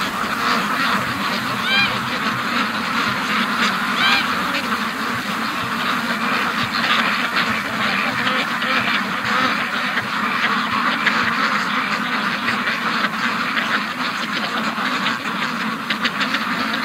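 A flock of free-range ducks quacks and honks continuously on an icy lake, a dense overlapping chorus of calls held at a steady level throughout.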